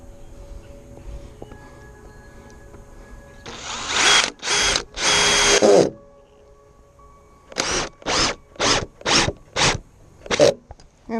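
A cordless power drill driving a screw into wooden deck framing, close and loud in two bursts: three long whirring runs, a pause, then five short rhythmic pulses as the screw seats.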